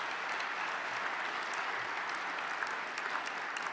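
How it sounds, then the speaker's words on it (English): Steady, even applause from a banquet audience at a 50th-anniversary chairman's banquet, a continuous wash of many hands clapping, fairly distant and unbroken, with no one speaking. "One huge round of applause for everybody here and everybody who has preceded us."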